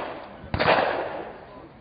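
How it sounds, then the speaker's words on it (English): A single 12-gauge shotgun blast loaded with double-aught buckshot fires at point-blank range against an LED flashlight, one sharp loud crack with a short decaying tail, standing alone. "moved once again back to a 12-gauge shotgun, but this time using double-aught buckshot"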